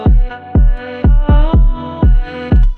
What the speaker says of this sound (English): Now the vocal plus the kick and the piano for the bridge sound like this.